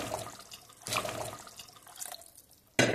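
Water splashes and trickles in bursts, poured into a cooking pot of mutton curry, with short pauses between, fairly close and moderately loud.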